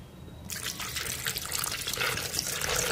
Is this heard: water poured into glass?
yes